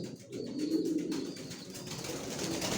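Soft, low cooing of racer pigeons repeats in a gentle murmuring rhythm, fairly quiet, with no voices.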